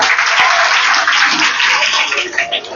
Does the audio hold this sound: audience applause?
yes